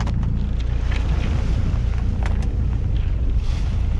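A sailboat motors at sea into the wind between Jamaica and Panama, with a loud, steady low rumble and rushing wind buffeting the microphone throughout.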